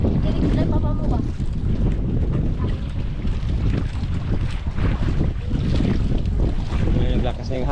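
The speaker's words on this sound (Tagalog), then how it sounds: "Naglakas na yung hangin" Strong wind buffeting the microphone in a continuous loud roar, with rumbling gusts over open water.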